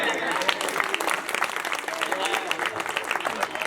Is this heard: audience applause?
yes